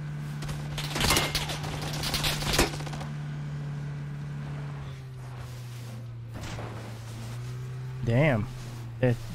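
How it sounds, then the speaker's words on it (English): Video game gunfire sounds in a couple of rapid bursts near the start, then fades under a steady background hum, with a few later thumps and a brief whooshing sound. "They're shooting at us."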